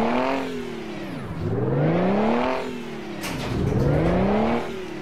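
Truck engine in the Euro Truck Simulator 2 video game, revving in two long rising and falling sweeps, loud and close with no talk, with a thin, car-like tone.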